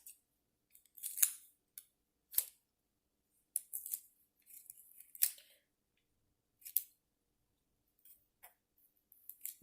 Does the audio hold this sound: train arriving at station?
no